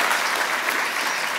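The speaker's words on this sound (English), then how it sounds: "Can we give a round of applause for that?" Audience applause at an education awards ceremony, a steady wash of many hands clapping at moderate distance.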